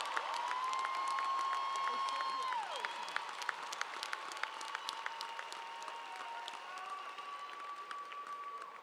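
A commencement audience applauds newly commissioned Army officers with sustained, even clapping, punctuated by a long whistle and scattered whoops, fading slightly toward the end.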